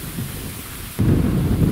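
Strong wind gusts through remote forest on a hike, roaring and buffeting close with a low rumble that surges noticeably louder midway.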